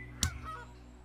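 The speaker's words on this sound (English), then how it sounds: "we got so many freaking geese" A goose gives one short, clear honk in the zoo game Let's Build a Zoo, with a faint trailing call over a steady low hum.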